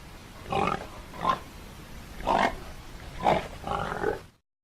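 Piglets grunting and oinking on a farm, five separate short grunts spaced about a second apart, moderately close and alone, ending in silence.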